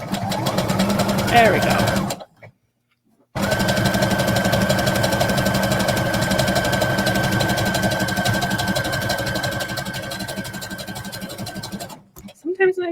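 A sewing machine runs a steady, loud stretch stitch along a folded half-inch hem, pausing briefly once before whirring on continuously. A voice speaks briefly over it.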